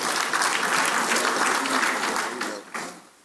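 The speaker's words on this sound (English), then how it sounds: "Another round of applause for him." Guests applaud at an event celebrating former Nigerian head of state Yakubu Gowon at 90, the clapping dense and strong, then fading out near the end with a last brief burst.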